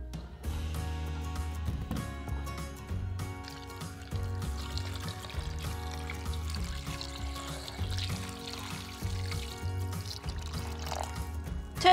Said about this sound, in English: Place in a pan and cover with cold water.